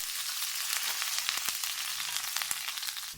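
Onion, green chillies and curry leaves sautéing in oil for carrot rice, a soft steady sizzle with light crackles, fairly faint and alone.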